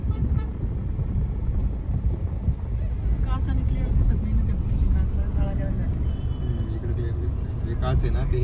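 Heavy road traffic in a congested street during Diwali shopping: a steady rumble of cars and buses with scattered horn toots, near and far, while people talk over it.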